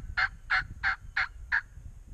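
Wild Kansas turkey tom gobbling in five quick, evenly spaced bursts over about two seconds, fairly close and clear above a low outdoor rumble.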